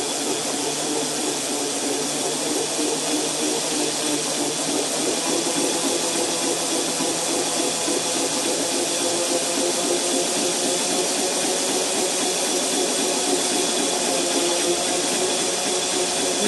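A permanent magnet motor device, accelerated by hand via a pulley, spins with a steady, continuous whirring hum and broadband hiss that holds at an even level throughout, with no talking.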